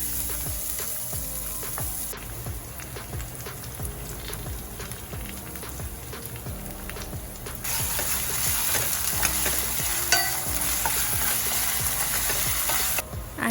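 Onions with ginger garlic paste sauté in a pan for an Indian dal fry, a steady dense sizzle and crackle that swells louder partway through, with no talking.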